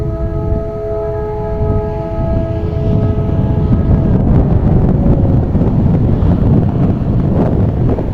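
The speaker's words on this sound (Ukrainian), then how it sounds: "вітер дме із ставочка, просто замерзаєш" Cold wind blowing off a pond roars steadily against the microphone, a loud low rumble that builds midway, with a faint tonal hum fading out early on.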